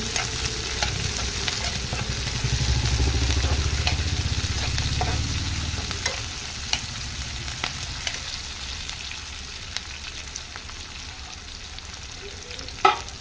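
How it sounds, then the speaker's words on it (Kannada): Chopped onions for a beetroot palya frying in oil in a pan over a medium flame, a steady close sizzle with occasional stirring scrapes and a louder crackling burst early on, no voices. "ಈರುಳ್ಳಿ ಗೋಲ್ಡ್ ಕಲರ್ ಬರೋವರೆಗೂ ಫ್ರೈ ಮಾಡಬೇಕು ಸ್ವಲ್ಪ ಮೀಡಿಯಮ್ ಫ್ಲೇಮಲ್ಲಿ"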